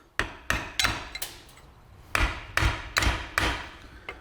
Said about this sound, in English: So if I hit metal, I'm going to damage the hammer,